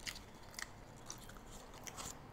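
Crunchy spicy sweet potato snacks bitten and chewed close to the mic, with a few sharp crisp crunches spaced over a couple of seconds against a quiet background.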